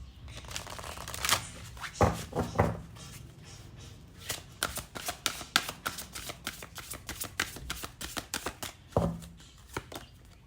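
Oracle cards being shuffled by hand in quick riffling bursts, with soft slaps and flutters in uneven clusters and short pauses, up close and without speech.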